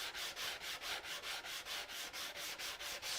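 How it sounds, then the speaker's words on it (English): Rapid rhythmic back-and-forth rubbing of a sanding block with light sandpaper on wood, about four strokes per second, close and steady, on its own with no talk. "it's just a matter of sanding down to the line"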